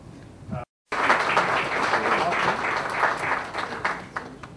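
Following a brief cut, an audience at an education event in India breaks into sustained applause for Dr. Shashi Tharoor, a steady roar of many clapping hands heard fairly close.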